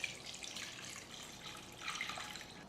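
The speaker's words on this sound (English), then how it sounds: "Then add water." Water poured into a rice cooker holding chicken, rinsed herbs, goji berries and dried Solomon's seal, a steady faint splashing stream running alone for a few seconds with a slight swell near the end.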